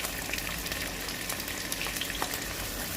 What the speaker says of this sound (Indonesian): Panaskan minyak, kemudian goreng terinya.